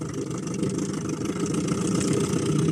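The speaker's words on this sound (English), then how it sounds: "it's a 6 horsepower Evermood 2-stroke. It's a 1980s engine" A 1980s 6 horsepower Evermood two-stroke outboard engine runs steadily on a 3.2 metre inflatable boat, a loud, continuous close-up drone with a slight rise in intensity toward the end.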